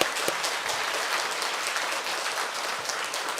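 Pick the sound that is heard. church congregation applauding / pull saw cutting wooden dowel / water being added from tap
church congregation applauding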